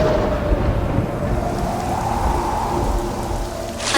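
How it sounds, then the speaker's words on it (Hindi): A sea thunderstorm with steady heavy rain, a continuous dense roar with low rumbling underneath, loud throughout and close, with no voices. "अचानक समुद्री तूफान शुरू हो गई।"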